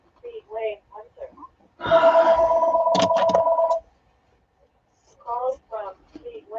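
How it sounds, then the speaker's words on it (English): A telephone rings loudly and close for about two seconds in a home during a greeting card workshop, with a steady electronic tone and a brief beeping burst, and a voice talking before and after. "Here goes the phone."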